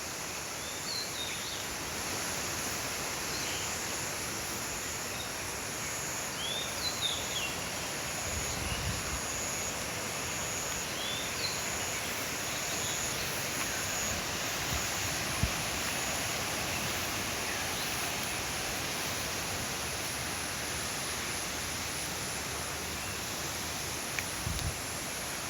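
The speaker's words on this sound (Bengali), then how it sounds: "আজকে কিন্তু প্রচুর বাতাস, দেখুন কি পরিমাণ বাতাস।" Strong wind blowing steadily through a garden after a night of rain, a broad continuous rushing roar with faint rustling, sustained and fairly even throughout with no talking.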